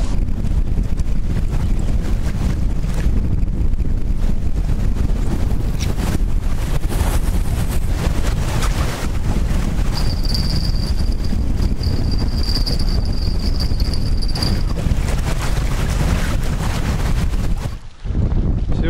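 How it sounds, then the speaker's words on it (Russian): Strong wind buffets the microphone in a continuous low rumble while fishing near Astrakhan, with water and waves in the background and a brief high whine partway through. "Сегодня сильный ветер, конечно, будет мешать писать"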